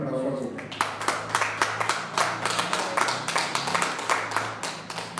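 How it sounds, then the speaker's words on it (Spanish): A church congregation claps together during a sermon, a steady run of sharp claps under a voice speaking and a low sustained musical tone. "Dale un aplauso al Señor"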